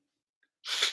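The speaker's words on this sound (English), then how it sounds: "totally about to sneeze" A single sharp sneeze bursts out close to the microphone after near silence, brief and breathy.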